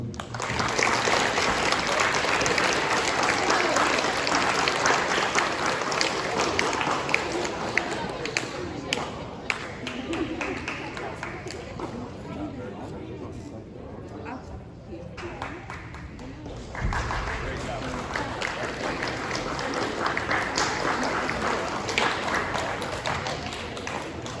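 Clapping from a school awards ceremony audience for seventh grade students, loud and continuous at first, thinning into scattered claps and taps around the middle, then swelling again, with voices mixed in.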